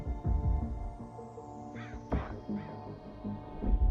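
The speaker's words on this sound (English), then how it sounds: "I heard the birds." Quacking bird calls from the video game Plague Inc: Evolved, a few short honking cries at low volume over a steady electronic drone.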